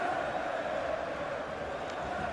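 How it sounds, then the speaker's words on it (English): A stadium crowd in a football video game, at a match against Norwich City, gives off a constant, distant roar and murmur that stays faint and unbroken throughout. "The raucous crowd"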